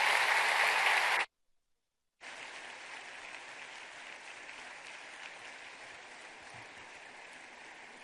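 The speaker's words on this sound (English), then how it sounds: "another round of applause for Mr. Mark Zuckerberg" Audience applause for Mark Zuckerberg at the APEC Peru event, a loud dense wash of clapping that cuts out abruptly for about a second, then resumes slightly softer and continues steadily.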